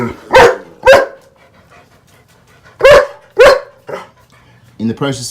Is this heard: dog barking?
yes